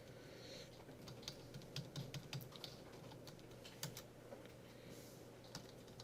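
Computer keys are typed quickly and quietly in bursts of soft clicks over a low, steady room hum during a programming class.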